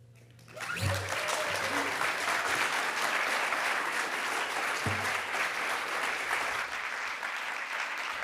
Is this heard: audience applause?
yes